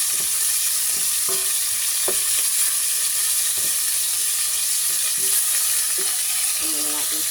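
Ground chicken giniling frying in a pan with eggs, a steady loud sizzle and hiss throughout, broken by intermittent scraping stirs of a utensil against the pan.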